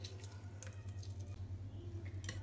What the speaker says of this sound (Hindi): हाफ़ लेमन जूस डालेंगे इसमें।